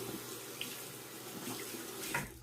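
Tap water runs into a bathroom sink while a hand is rinsed during a shave, a steady, fairly faint splashing stream with a slight rise in splatter near the end.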